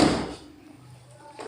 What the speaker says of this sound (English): Now you try to open the door.